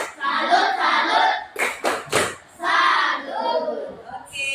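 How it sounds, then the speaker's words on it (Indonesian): A classroom group of teachers claps in a short rhythmic salute pattern, sharp bursts of hand claps set between chanted voices, with speech in the group before and after the clapping. "Tepuk tangan dulu buat Danu. Tepuk salut."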